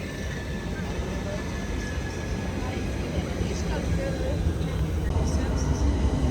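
A train rumbles at a station platform, a low, continuous drone that grows slightly louder over several seconds amid general platform ambience.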